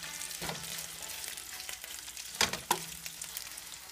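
Split hot sausages brown in a pan for tomato sauce, sizzling steadily with a bright frying hiss, with a few sharp stirring knocks and clinks near the middle.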